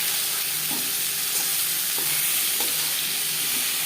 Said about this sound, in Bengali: ম্যারিনেট করে রাখা মাছ একটা সাইজ ভাজা হয়ে গেলে অপর সাইজটা উঠে যাবে